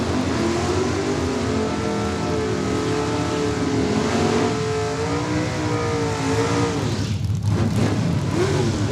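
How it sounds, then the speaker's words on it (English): Drag racing cars, including a dragster, accelerate hard down the strip at Saskatchewan International Raceway, a loud continuous engine roar with rising and shifting tones, close and alone throughout. "Of course, the dragster will get there first."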